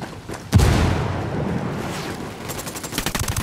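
Gunfire in Ghost Recon Wildlands: a sudden loud blast followed by sustained rattling shots and a rapid burst of automatic fire toward the end, close and dense.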